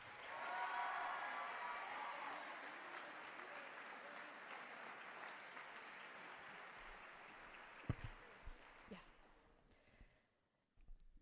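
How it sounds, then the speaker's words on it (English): An audience at a university awards ceremony breaks into a long burst of applause, full at first and then thinning out, with a few scattered claps and faint voices before it falls quiet. "Let's give Shay a round of applause"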